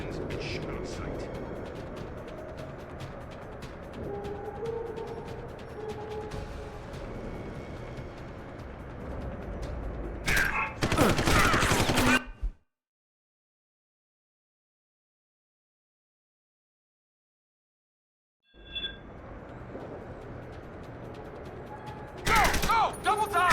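Guards open fire in Deus Ex: Human Revolution, with bursts of gunshots over steady game ambience and voices, a sharp loud volley, then a gap of silence before more shots.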